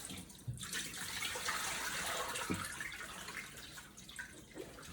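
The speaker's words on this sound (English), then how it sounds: "Just want to drain the water off." Water draining off in a kitchen sink while making pot roast, a steady close rush of running water with a few small splashes and drips, fading slightly near the end.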